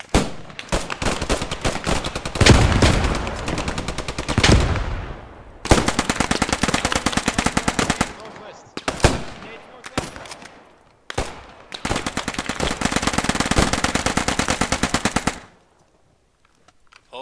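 Suppressing fire in the video game Post Scriptum: long, loud bursts of rapid automatic gunfire broken by short pauses, with a sharper single shot or two, fading to silence at the close.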